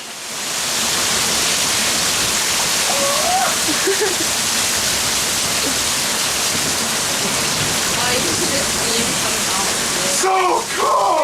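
Heavy outdoor rain pours down as a steady, dense hiss. Faint voices sit beneath it, and a brief clatter comes near the end.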